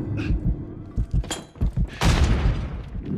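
Gunfire from the Call of Duty: Modern Warfare III video game: a burst of close, heavy shots and thuds, followed by a loud boom that rings out and decays.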